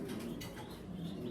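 Grizzle-coloured exhibition pigeons give a soft, low cooing murmur close by, brief and continuous over faint background noise.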